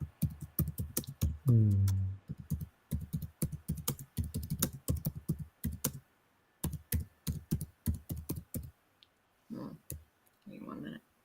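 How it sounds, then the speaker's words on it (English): Rapid bursts of typing on a computer keyboard clatter close and clear in uneven clusters with short pauses, and a brief murmur is heard among the keystrokes. "I'm going to type him a question."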